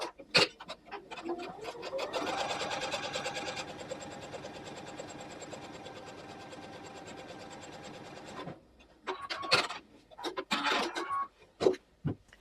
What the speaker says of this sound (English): Now I'm going to go sew this from this side.